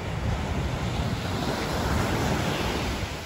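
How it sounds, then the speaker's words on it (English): Ocean waves crash onto rock piles along a beach, a steady dense roar of surf and spray with wind buffeting the microphone, loud and continuous with no voices. "the waves are crashing up here in these rock piles"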